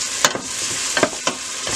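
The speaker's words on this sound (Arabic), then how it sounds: "البصل قاعد يتقلى شوي" Onions and fresh red pepper fry in a pan with a dense, close sizzle and a few sharp crackles or stirring taps spaced through the short stretch.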